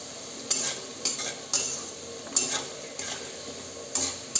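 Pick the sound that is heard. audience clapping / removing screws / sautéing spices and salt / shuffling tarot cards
sautéing spices and salt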